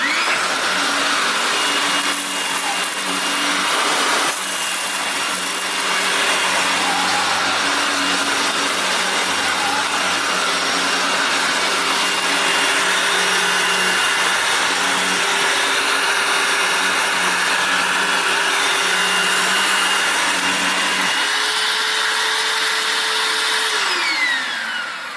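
A Hoover WindTunnel U6485900 self-propelled upright vacuum cleaner runs with a loud, steady whirring roar and low motor hum for the whole stretch, its pitch dropping briefly near the end. Nobody speaks.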